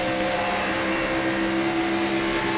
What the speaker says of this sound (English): I can hear the tires screaming out from underneath.